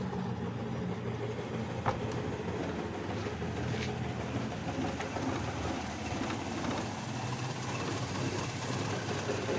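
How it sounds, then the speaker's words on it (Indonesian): A cold car engine idles a little unevenly just after starting: a low, continuous mechanical rumble with slight wavering, heard close and steady throughout, with no talking over it. "Ini mesin saya masih dingin ya guys, jadi agak goyang."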